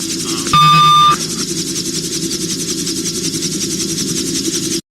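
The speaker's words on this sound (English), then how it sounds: "we were getting a constant behind the curve alarm" Gyrocopter GWS behind-the-curve warning alarm, a loud steady electronic tone that sounds for about half a second over a constant engine drone, then stops while the engine hum carries on alone until it cuts out at the end.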